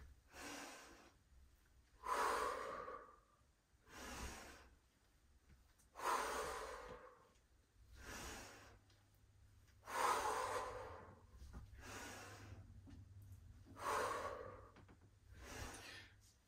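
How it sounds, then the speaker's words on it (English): Rhythmic breathing during squat exercises, using lateral thoracic breaths that expand the rib cage: about seven loud, close breaths, evenly spaced roughly every two seconds, with a low hum underneath. "Lateral thoracic breathing to expand that rib cage."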